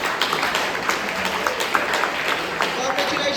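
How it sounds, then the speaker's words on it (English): A group claps together, scattered hand claps forming steady applause with a few voices mixed in. "Clap together."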